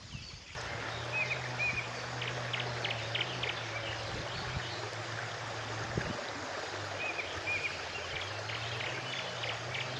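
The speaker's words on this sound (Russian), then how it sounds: "Живописная река с журчащими перекатами не всегда сулит хороший улов" Babbling rapids of a scenic river where chub are fished, a steady broadband rushing wash running unbroken and fairly close, with faint insect or bird chirps flickering above it.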